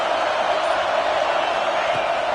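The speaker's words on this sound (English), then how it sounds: "This crowd is trying to inspire this defense to make a big red zone stop" A packed college football stadium crowd roars to rally its defense before a red zone stop, a steady, dense wall of cheering and shouting that stays loud and unbroken throughout.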